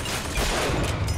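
Shotgun fire in the video game Bioshock Infinite, a dense, continuous burst of loud gunfire and battle noise packed into a second, with no talk over it.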